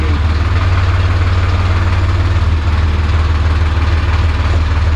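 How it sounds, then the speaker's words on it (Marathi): A 42 horsepower tractor engine idles in a parking area with a loud, steady, low chugging throb that holds an even rhythm from start to finish. "तर ना आपण आता पार्किंगला ना ट्रॅक्टर लावायला आलेलो आहे,"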